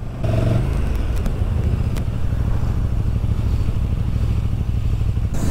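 A KTM 1290 Super Duke R motorcycle being ridden, its engine a steady, loud low rumble throughout with faint clatter and road noise, close to the microphone and with no talking over it.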